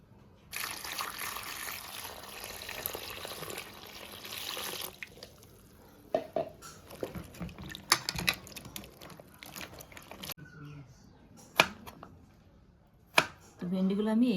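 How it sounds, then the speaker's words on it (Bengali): Okra (ladyfinger) is cut on a board after washing. Running tap water comes first, then a series of sharp, irregular knife clicks and taps that are close and moderately loud, with quieter stretches between them. "তো ভেন্ডিগুলো আমি এইভাবে কেটে নেব।"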